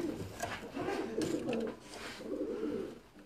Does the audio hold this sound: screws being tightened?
no